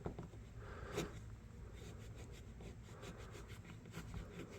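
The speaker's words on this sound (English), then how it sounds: "a lot of times you can just hand polish the bolsters" Hand polishing rust from the bolsters of a Hammer Brand camp knife, a soft continuous rubbing and scrubbing with a sharper scrape near the start, close and steady throughout.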